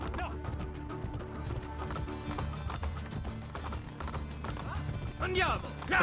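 Rhythmic hoofbeats of a galloping horse over the Assassin's Creed Brotherhood game soundtrack, with a brief whinny near the end.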